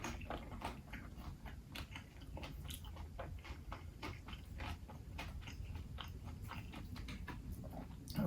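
Someone bites into and chews an air-fried pork egg roll from Whole Foods, producing steady, close crunching and mouth sounds that continue throughout without talking.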